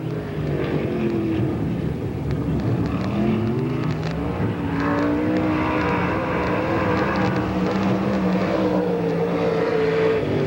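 Race car 71C, driven by R.J. Conley, runs a qualifying lap at Pennsboro Speedway during a 1995 STARS event: a steady, buzzing engine drone whose pitch rises and falls through the turns, heard from a distance the whole way.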